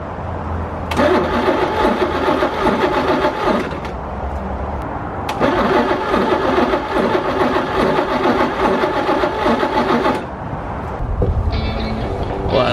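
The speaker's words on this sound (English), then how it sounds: "we'll see if the car fires up" A Ferrari's engine cranks and catches close by, its loud mechanical churning broken by a short pause before a second long crank, then a lower rumble near the end.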